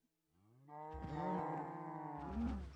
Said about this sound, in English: I'm gonna try to kill the cows.